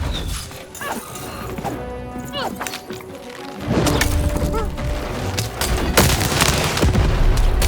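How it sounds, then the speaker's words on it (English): Cannon fire in the video game Lost in Random, heavy booming crashes amid busy game effects and music, the later half louder with several impacts, while voices speak over it. "button to fire the cannon"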